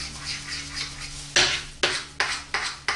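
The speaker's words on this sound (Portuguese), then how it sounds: "Vou mexer bem." A utensil scraping and clinking against a bowl of microwave-melted chocolate, several sharp taps and scrapes in an irregular rhythm, close and fairly loud.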